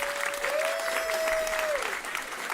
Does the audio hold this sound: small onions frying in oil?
no